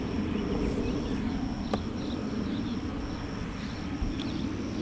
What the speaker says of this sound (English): All the bees are coming out